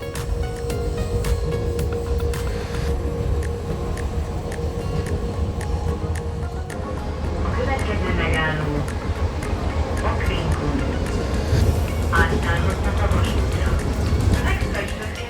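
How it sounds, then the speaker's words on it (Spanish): Suburban commuter train to Szentendre, Hungary, a steady loud rumble and hum of the running railcar with rattling and occasional squeals, heard from on board, continuous throughout. "es el sistema de trenes que hay para estos pueblos cercanos"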